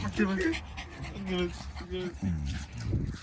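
A family dog pants quickly and heavily at close range, with people talking over it.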